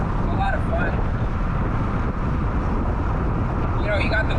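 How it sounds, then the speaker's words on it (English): Steady wind rush buffets an open-top 1.9-liter BMW Z3 roadster on a relaxed sunny cruise, a loud continuous roar filling the whole stretch, with faint speech over it. "You got the wind blowing"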